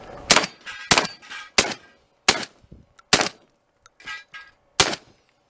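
Several loud shotgun blasts from a Benelli Super Vinci crack out at irregular intervals, with fainter pops and metallic clangs in between, heard outdoors on a shooting range with no talking.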